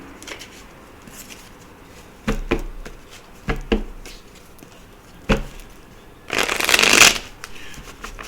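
Tarot oracle cards are tapped and handled close up with a few soft knocks, then a brisk, loud riffle shuffle runs for about a second near the end.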